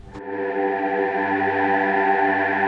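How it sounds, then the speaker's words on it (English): A sustained, buzzy synthesizer tone with a rich, voice-like timbre, held steadily with a slight chorus shimmer. "use it to make some vocal-like synth sounds"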